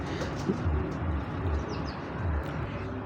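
Domestic pigeons in a breeding loft coo in low repeated phrases amid a soft flutter of other birds, fairly close and steady throughout.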